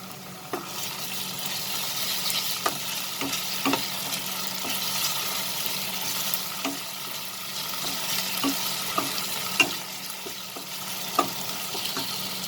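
Onion with ginger garlic paste sautéing in a pan for ghugni, a steady close sizzle and fry with occasional scrapes and taps of a spoon stirring, no voices.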